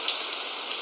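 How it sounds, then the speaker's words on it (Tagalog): Steady rain pours down in a children's story, a dense even hiss of drops striking a surface with a few sharper patters, moderately loud and unbroken, with no voices. "Patak, patak, patak. At umulan si Kuko."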